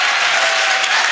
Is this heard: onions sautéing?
no